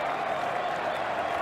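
Stadium crowd at Adelaide Oval roaring and applauding Australia's Ashes win on day five, a dense, steady wash of cheering and clapping that fills the whole stretch without a break.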